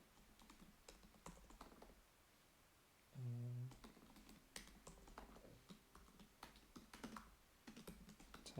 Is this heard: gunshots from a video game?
no